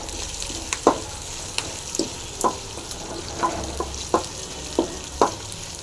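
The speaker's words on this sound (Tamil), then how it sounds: "இடித்த பூண்டு போட்டு நல்லா களி விடுங்க அப்புறம் பருப்பு அதையும் போட்டுருங்க" Crushed garlic and lentils frying in oil, after mustard seeds, for a snake gourd stir-fry, stirred in a pan: a low steady sizzle with about eight distinct scraping strokes at a fairly regular pace, close and without speech.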